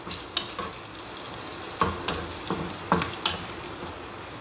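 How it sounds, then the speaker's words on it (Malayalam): Dal tadka with chili powder being stirred in a pan: a steady low sizzle, broken by a few sharp scrapes and clinks of the spoon against the pan at uneven intervals, with no talking. "ഇതുപോലെ ഇളക്കി കൊടുത്തിട്ട് നമുക്ക് ഇതിനകത്തോട്ട് നമ്മൾ മുളക് പൊടി ആഡ് ചെയ്യണം."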